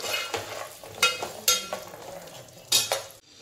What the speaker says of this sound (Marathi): याला आपण तुपामध्ये फ्राय करून घेतो